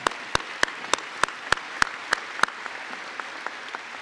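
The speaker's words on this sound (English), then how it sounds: "Let's give Robert a round of applause." Applause at a college commencement ceremony for an honoree, heard as a rhythmic run of sharp, evenly spaced claps, loud at first and thinning to fainter, scattered claps by the end.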